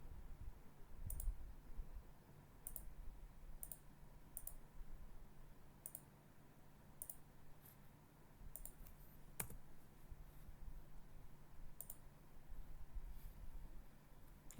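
A computer mouse clicks faintly about a dozen times at an uneven, unhurried pace over a low steady room hum, with no one speaking.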